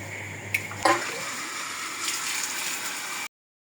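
Water splashes and runs steadily from a tap as hands and face are washed, a brief clatter near the start, then an even hiss that stops abruptly.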